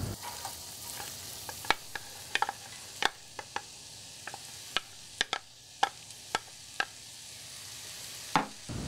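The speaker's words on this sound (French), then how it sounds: "On remue délicatement et on chauffe à feu assez moyen de façon à ne pas colorer le poireau et l'échalote." Leek and shallot cooking gently in butter in a saucepan over medium heat, a soft simmering hiss under sharp scattered clicks and taps of a spoon stirring, close and unhurried, no talk.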